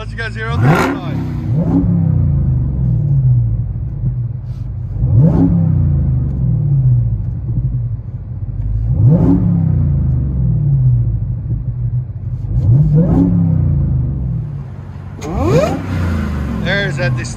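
A 2017 Dodge Charger Hellcat with a supercharged 6.2L HEMI V8 and dual exhaust is revved repeatedly, five or six rising blips roaring up from a deep, rumbling idle, loud and close, with brief talking between revs.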